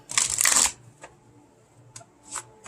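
A deck of tarot cards shuffled in one quick riffling burst, crisp and close, followed by a few soft card taps and handling sounds.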